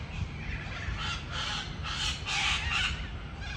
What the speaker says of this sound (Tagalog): Mga ibon yan.